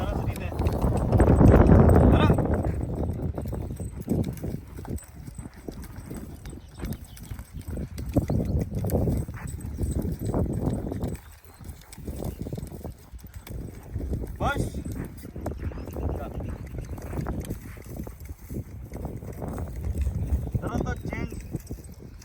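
A horse in groundwork training, working free after its lead rope was removed, lands a series of irregular hoof thuds on soft ground, moderately near, while someone talks throughout.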